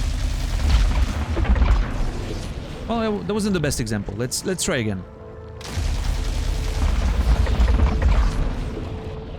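Weapon fire and explosions in the video game Returnal, underwater level, heavy booming blasts and rumbling bursts with a stretch of rapid mechanical firing, while someone talks over the first part and again afterward.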